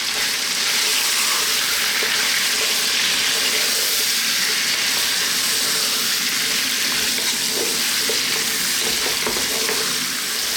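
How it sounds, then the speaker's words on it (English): Lamb and garlic fry in a pan over medium heat, giving a steady, close hiss and crackle with occasional scraping and stirring noises, no talking. "on a medium heat, we're going to throw this around in the pan for about 5 to 6 minutes"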